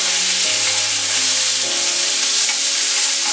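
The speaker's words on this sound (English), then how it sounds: "You can hear that beautiful sizzling going on." Loud, steady sizzling of pork strips stir-frying in a hot pan, a continuous crackling hiss with no voices.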